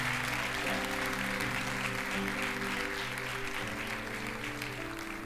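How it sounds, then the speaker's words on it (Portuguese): Church congregation applauding during a sermon, a steady wash of clapping mixed with sustained music underneath, moderately distant and even throughout. "Pode aplaudir mais forte ao Senhor?"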